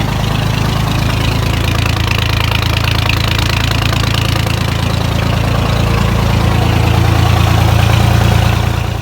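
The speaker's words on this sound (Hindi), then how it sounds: "तो ट्रैक्टर लेके आए हैं।" A tractor engine runs steadily and loud throughout, a constant low diesel-like idle with a knocking throb, recorded close in a village area while going to fetch soil.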